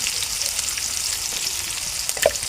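Chili paste with turmeric frying in a pan for a green bean stir-fry, giving a steady close hiss of sizzling oil with a faint clink near the end.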